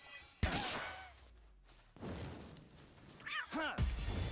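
Cat meows from an Xbox video game, a couple of short rising and falling cries near the end among other game sounds and brief thuds, with a voice talking at times.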